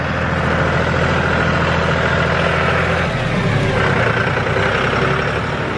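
A 5065 tractor engine running while cutting grass: a loud, continuous heavy diesel drone close by, with a slight shift in tone partway through and no talk.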